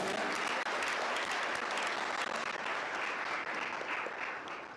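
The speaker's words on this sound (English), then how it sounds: "Please give a loud applause to her." A school audience at a Founder's Day celebration gives loud, sustained applause for a student. Dense, even clapping from many hands runs throughout and eases slightly at the end.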